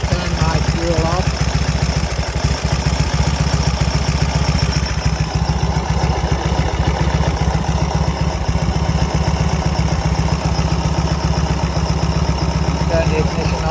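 A 1934 Indian Standard Scout motorcycle engine idles loud and close, a steady low pulsing throb with no break throughout.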